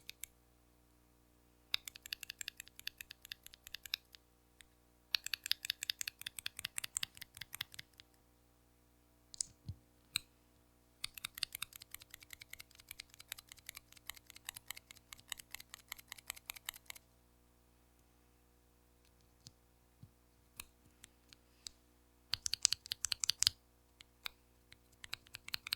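Typing on a mechanical keyboard fitted with Cannon Keys Coffee Chip tactile switches comes in bursts of rapid close clacks, separated by short pauses and scattered single keystrokes, quiet and without talk.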